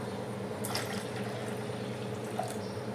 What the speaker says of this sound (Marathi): डाळ शिजण्यासाठी पाणी घालणार आहोत